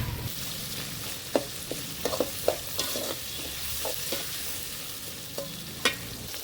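Ginger and garlic sautéing in a pan for egg gravy, a constant sizzle punctuated by frequent clicking spatula taps and stirs, near and moderately loud, with no one talking.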